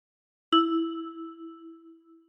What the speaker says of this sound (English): For phrase 3, with your right thumb, pluck 3.